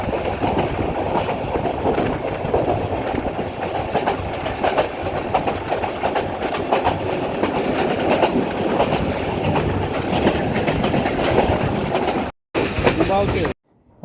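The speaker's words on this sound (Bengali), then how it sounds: "আমাদের ট্রেনটি বর্তমানে কুলাউড়া বরমচল সেকশন পার হচ্ছে" The Kalni Express runs at top speed on the Kulaura–Baramchal section between Sylhet and Shaistaganj, a loud continuous rumble with rhythmic wheel clatter heard from on board, briefly cutting out near the end.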